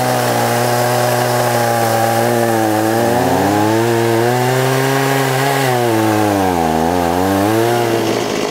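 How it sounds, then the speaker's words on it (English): A gas-powered chainsaw runs loudly and continuously indoors in a woodworking shop while bowl blanks of Osage orange are being cut, its engine pitch rising and falling as it labors and revs, with no voices. "My electric chainsaw broke, so we're using the gas-powered one in my shop."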